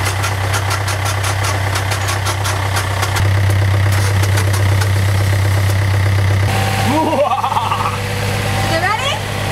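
A steady, rumbling boat engine idles close by with a low, even drone after a new sediment bowl was fitted to fix a fault, while people talk briefly over it.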